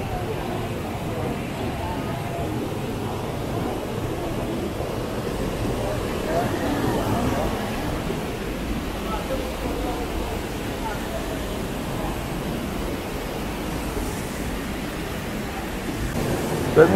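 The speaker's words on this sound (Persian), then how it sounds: "ببین چه صفایی داره اینجور جا نشستن تو رودخونه" River water rushing steadily in Darband, a mountain area north of Tehran, a broad continuous roar that stays even throughout with no pauses.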